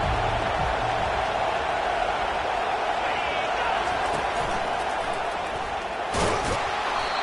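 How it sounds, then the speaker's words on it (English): Steady stadium crowd roar at an Oklahoma–Notre Dame college football game late in the first half, a dense, constant wash of massed voices filling the whole span, with a brief thump near the end. "this crowd trying to help keep them there"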